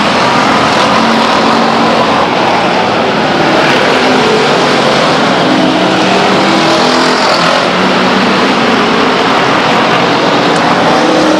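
Race cars roar around the Stockton 99 Speedway oval, engines loud and continuous as they drag race down the front stretch, with steady high-volume revving throughout and no talk.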